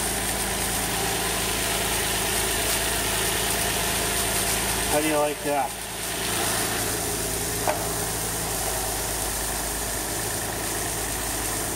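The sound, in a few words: repaired Nissan V6 engine idling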